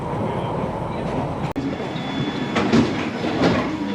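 A London Underground train running on the line, a steady rumble of wheels and carriage noise close by throughout, swelling slightly near the end with faint brakes or squealing.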